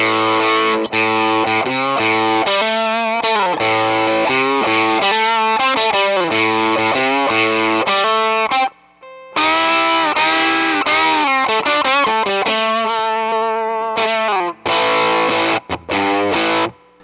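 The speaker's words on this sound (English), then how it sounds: "But is this really a fuzz sound at this point, or is this just an overdrive sound or a distortion sound?" A loud, thick electric guitar through a Tone Bender-style fuzz pedal with a heavily fuzzed, saturated tone plays sustained chords and riffs, cutting out briefly a couple of times.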